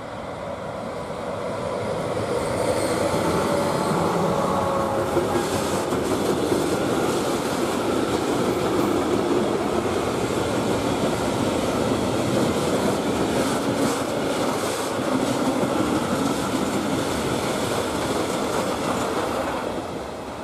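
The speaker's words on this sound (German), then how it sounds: "das war jetzt eine EU43 mit einem sehr, sehr schönen gemischten Zug" An EU43 electric locomotive hauling a mixed freight train rolls slowly past at Vahrn near Brixen, producing a loud, steady roar and rumble of wheels and wagons for about twenty seconds.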